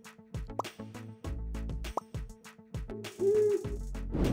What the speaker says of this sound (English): An owl was crying for help.